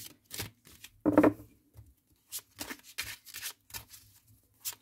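Tarot cards are shuffled by hand in short, crisp riffling bursts separated by brief pauses, close and fairly quiet, with one fuller flurry near the start.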